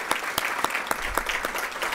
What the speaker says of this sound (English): let's give all of our care team members a round of applause